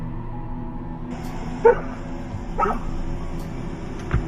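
A dog barks a few times close by, short sharp yelps with a whimpering edge, over a low steady background hum.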